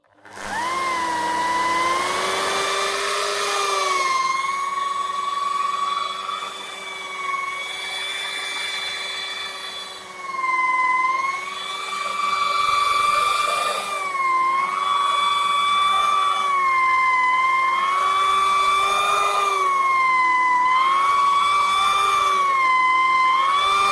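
Machine polisher buffing the paint of a Tigra, a loud continuous whining motor tone that rises and dips in pitch as pressure changes, running steadily close up.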